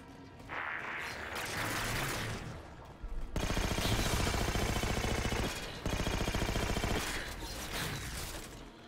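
Light rifle bursts in Halo 4, a steady stream of rapid, loud shots firing almost continuously for several seconds, with short breaks in the volley, under game sound.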